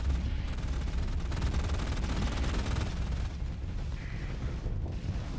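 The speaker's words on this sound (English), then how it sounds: "Somebody's shooting blasters at me." Rapid blaster fire in the space combat game Starsector, a dense continuous barrage of loud shots with booming impacts that runs unbroken throughout, with no voices.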